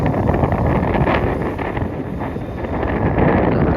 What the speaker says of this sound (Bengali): সুন্দর হাওয়া দিচ্ছে